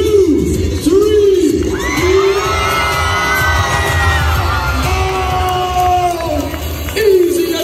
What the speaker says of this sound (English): on the count of three, everybody screaming their heads off